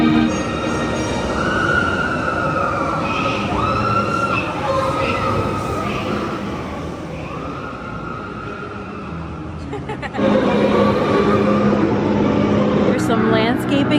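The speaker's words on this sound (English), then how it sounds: "The train going through the tunnel under Tron." Train rumbling through the tunnel under the Tron ride at Magic Kingdom, a steady mechanical roar with squealing tones, swelling louder near the end, while people talk over it.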